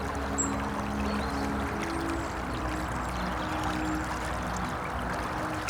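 Fast, shallow river water rushes and gurgles steadily over a stony bed in autumn. The flow is close and continuous, with no voices.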